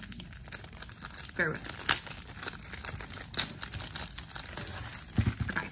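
Book box packaging is torn open by hand, with repeated crinkling and ripping of paper and cardboard close by while someone talks quietly.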